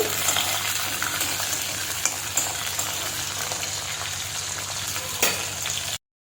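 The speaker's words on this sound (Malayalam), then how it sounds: "ചെറിയ ഉള്ളി ചേർത്ത് കൊടുക്കാം ഇളക്കി കൊടുക്കാം നന്നായി വഴണ്ട് വരട്ടെ" Small onions sautéing in a hot pan, a loud continuous sizzle and crackle with occasional stirring scrapes, ending abruptly.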